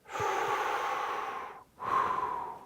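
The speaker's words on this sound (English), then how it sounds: "have someone take a deep breath" A person takes a deep breath, a long airy inhale lasting over a second, a brief pause, then a second breath, close and clear with no talking.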